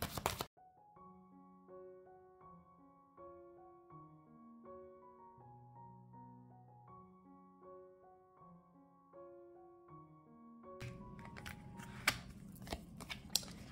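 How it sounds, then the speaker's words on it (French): Tarot cards handled and drawn from a deck, heard as a late burst of crisp papery flicks and rustles after a long stretch of gentle melodic music. "On va prendre 13 cartes."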